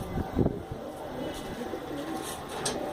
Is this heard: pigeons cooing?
yes